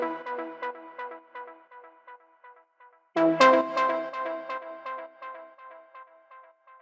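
Synth lead melody for a melodic techno drop, bright plucked notes in a simple repeating line, then a fuller, louder layered passage swelling in partway through, with no voices.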